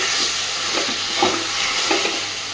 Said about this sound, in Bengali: আস্তে আস্তে এবার কড়াইতে লেগে লেগে যাচ্ছে